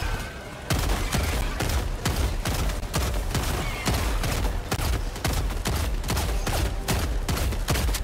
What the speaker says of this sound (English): Yeah, you're just peppering them. Yeah, that's shooting birdshot out of this goddamn thing.